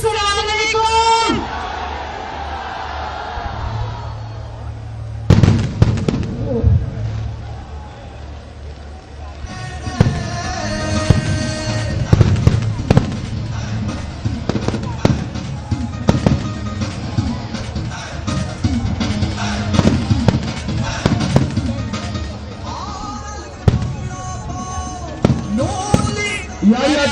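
Fireworks pop and crackle in bursts through a noisy outdoor crowd at a Pakistani political rally, with a voice speaking Urdu over the loudspeaker-like din.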